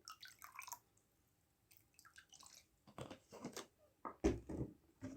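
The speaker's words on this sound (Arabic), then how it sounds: "هننزل برضو كمان بربع كده فنجان من الخل" Vinegar is poured over turnips being pickled, giving quiet, scattered drips and small liquid splashes up close, with a louder splashy burst toward the end.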